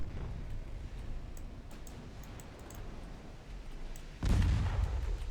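Naval gunfire rumbles in the Ultimate Admiral Dreadnoughts warship game as a steady low battle din, with a heavier boom of light-calibre guns bursting out near the end.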